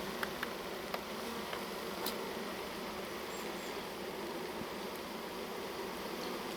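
Wild honey bees around a hive, a faint steady buzzing hum of the colony under outdoor noise, with a few soft clicks and taps scattered through and no voices.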